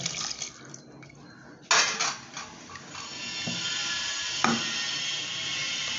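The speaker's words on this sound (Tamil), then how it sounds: "இப்போ நம்ம என்ன கொஞ்சம் தண்ணி ஊற்றிடலாம் லைட்டாக" Water pours into a metal pot for ridge gourd sambar after a clink, a steady running rush that continues to the end, close and moderately loud.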